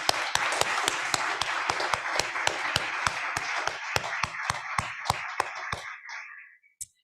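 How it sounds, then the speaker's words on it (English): Audience applause at the close of a university Three Minute Thesis competition, a dense round of many hands clapping with sharp individual claps on top, steady for about six seconds, then fading out. "Let's give them a final round of applause."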